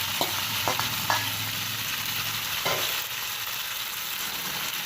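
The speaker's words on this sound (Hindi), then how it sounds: "अब हम इसको फ्राई करेंगे।" Marinated chicken sizzles and crackles steadily in hot oil in a pan, with a few stirring knocks near the start, close and continuous without speech.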